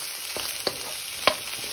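Onion, corn, carrot, zucchini and green peas fry in a tablespoon of oil for shrimp fried rice, a steady close sizzle with a couple of brief stirring clinks over the constant crackle.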